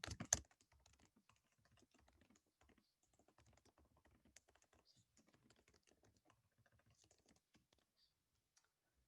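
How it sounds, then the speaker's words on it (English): Someone types a comment on a computer keyboard, producing soft, quick, irregular key taps at close range in an otherwise quiet room, preceded by a sharper click at the very start. "I can leave a comment, which I'll do by simply typing into this leave a comment box."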